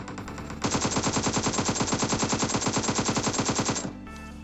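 Automatic gunfire in the PUBG Mobile game rattles out as one sustained burst of rapid, even shots lasting about three seconds, loud and close, followed by a brief quieter tail.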